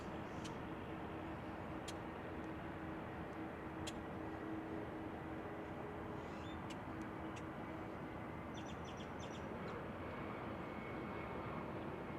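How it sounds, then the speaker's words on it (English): Airbus A320 jet at DFW International Airport, a steady, fairly distant broadband engine roar filling the whole stretch with no talking. "Is this Airbus A320?"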